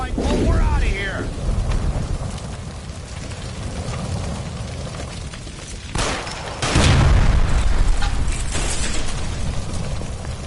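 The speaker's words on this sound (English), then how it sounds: "Shoot the gas line, Cole, we're out of here!" A gas line blows up in a PlayStation 4 action game, a heavy rumbling boom partway through that sits in dense background noise, with voices talking around it.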